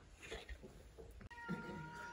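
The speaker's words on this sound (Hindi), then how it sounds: "बिल्ली मियाओ मियाओ कर रही है" A cat meows softly indoors during a home vlog, a faint short cry amid low room noise, heard at a distance.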